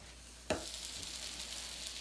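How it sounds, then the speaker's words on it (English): Scrambled eggs sizzle in a hot pan with a sharp scrape of a utensil stirring them, followed by a steady, fairly faint frying hiss that carries on alone. "quickly stirring the scrambled eggs"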